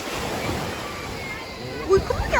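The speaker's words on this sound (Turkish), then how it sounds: "Evet çok dalga var denizde. Bakın nasıl da dalgalar var." Sea waves wash and surge in a steady broad rush with wind noise on the microphone, moderately loud, and a voice briefly breaks in near the end.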